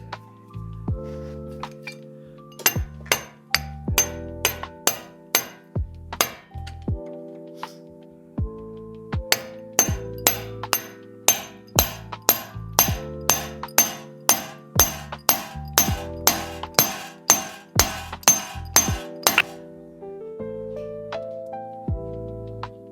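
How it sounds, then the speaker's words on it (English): Sharp metallic hammer strikes ring out repeatedly in steady runs while working on a 2024 Honda Civic Si, clanging blows with short pauses between bursts, close and clear. "I was hammering on the wrong side."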